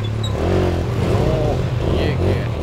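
A motorcycle engine revs loudly nearby in a Javanese-language short film, its pitch rising and falling in throaty surges, with a voice speaking briefly under it.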